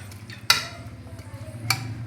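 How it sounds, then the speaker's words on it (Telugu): A spoon stirs a tomato mixture inside a pressure cooker while making vegetable pulao, giving two sharp metallic clinks against the pot over a low, steady background hum. "టమోటాలు తీసుకున్నాము, మిక్స్ చేసినది. బాగా కలుపుకోవాలండి."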